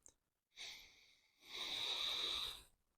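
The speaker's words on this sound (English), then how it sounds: "I had to take a deep sniff of that" Two breathy nasal sniffs close to the mic over a stout beer's aroma, a short one followed by a longer, deeper inhale, quiet and alone.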